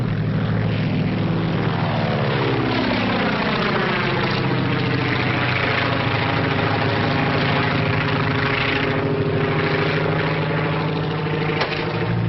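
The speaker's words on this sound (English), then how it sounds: "Just spotted kid's plane with smoke attachment." Small propeller plane fitted with a smoke attachment in flight in a 1939 film, a loud steady droning engine with a throbbing, slowly shifting pitch that fills the whole stretch, no speech.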